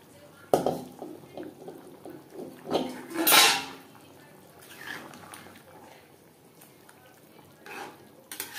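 Fried boiled potatoes being stirred into a simmering chicken curry in a pot, with a few sharp scrapes and clatters of a utensil against the pot over a low bubbling sizzle.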